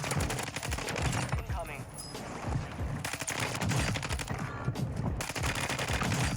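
Assault rifle firing in Warzone 2, rapid automatic bursts in a fast close rattle that runs almost without pause, with a voice talking faintly underneath.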